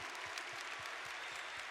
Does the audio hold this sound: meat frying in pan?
no